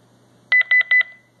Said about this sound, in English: till you get a beep. Press it again to confirm